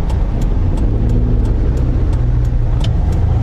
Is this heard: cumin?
no